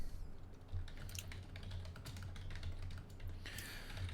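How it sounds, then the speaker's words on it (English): Rapid, uneven clatter of keys on a computer keyboard, close and fairly quiet, running steadily with brief louder bursts over a low constant hum. "Sorry, I'm typing."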